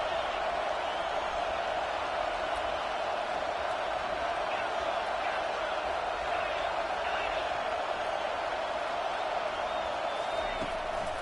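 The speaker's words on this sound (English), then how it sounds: "Here comes this home crowd as the defense tries to get off the field on 3rd down." Home crowd roaring in a college football video game on a third down, a continuous dense wash of stadium cheering and noise held at constant loudness throughout.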